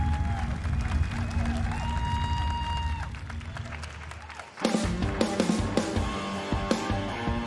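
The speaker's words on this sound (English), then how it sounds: "Why is everybody clapping?" Audience applause at Summer Game Fest 2024, a sustained wash of clapping and crowd noise that drops away, then resumes as sharper, closer claps over a voice talking.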